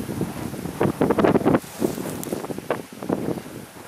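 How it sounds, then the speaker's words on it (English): Strong gusting wind buffets the microphone at a lakeside canoe camp, with loud irregular rumbling bursts that rise and fall throughout, alone with no speech. "A lot of wind."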